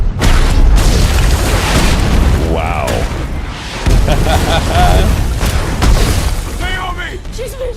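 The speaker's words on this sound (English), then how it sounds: "She's using the point defense cannons." Point defense cannons fire in The Expanse, the science-fiction TV series, as heavy booming bursts near the start and again around the fourth and sixth seconds, with people talking and exclaiming over them.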